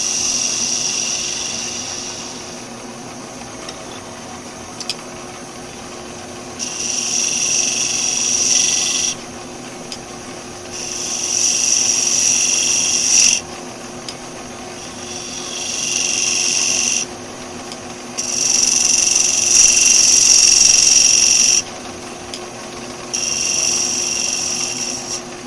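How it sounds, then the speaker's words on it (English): A spindle gouge cutting wood on a lathe: loud high-pitched shaving passes of a few seconds each, separated by gaps filled with the lathe's steady hum. "The spindle gouge is a very lovely tool."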